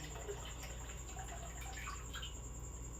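Purified water poured for a flour mix, a soft continuous trickle and splash close by with a few faint drips, no voices.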